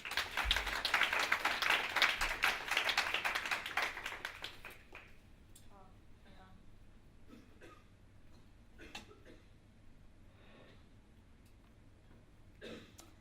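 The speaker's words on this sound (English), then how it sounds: "Please, a round of applause for that." Applause from an audience fills the first four seconds, dense and steady, then fades into a quiet room with scattered small noises.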